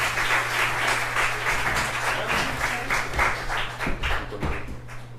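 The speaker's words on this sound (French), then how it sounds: "Encore une fois, je vous demande d'applaudir la 9e édition de J'étais le soleil ici." Audience applause at a summer festival ceremony in Haiti: a sustained burst of many hands clapping, moderately loud and dense, holding steady before thinning slightly toward the end.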